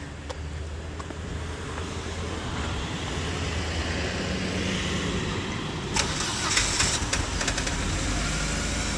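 A car engine treated with Seafoam in its cylinders turns over and settles into a constant, rough running drone, close and loud, with a few sharp clicks and rattles near the end.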